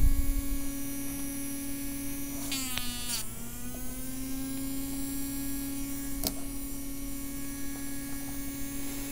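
A small DC motor driven by an ESP8266 NodeMCU D1 Mini runs at about 40% speed, giving a steady electric hum with a brief pitch dip and rise partway through, quiet and close.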